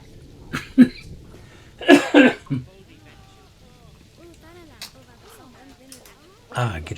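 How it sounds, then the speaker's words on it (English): A person coughs in a few sharp, throaty bursts, a couple of quick double coughs close to the microphone, while a Planet Zoo game plays with faint speech-like chatter between the coughs. "clear out some of the phlegm, stop coughing."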